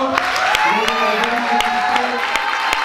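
Applause and crowd noise at the Fest'up 2019 festival closing ceremony, a short burst of dense clapping with a voice over it and a few cheers mixed in.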